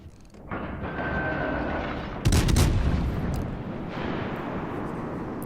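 Naval cannon fire in the World of Warships game, a cruiser engaging a Bismarck battleship: a sharp heavy boom from a salvo over a low rumbling background, with a fainter rumble before it.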